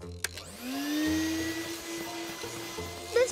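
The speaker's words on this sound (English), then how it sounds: "And for you, I got a vacuum cleaner." A cartoon vacuum cleaner starts up with a rising whine that settles into a steady motor drone, with a few clunks and clicks around it.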